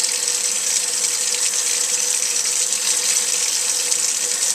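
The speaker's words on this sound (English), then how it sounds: "fill it up with some water, cold water" Cold tap water runs steadily into a pot of potatoes, a continuous bright hiss and splash at close range with no pause and no talk.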